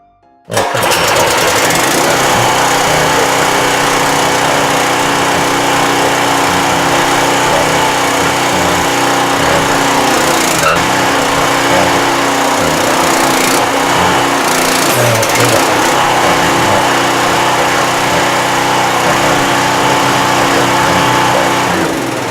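A small petrol engine on a wood splitter starts and roars steadily at close range, a loud continuous mechanical drone with brief sputters and surges partway through.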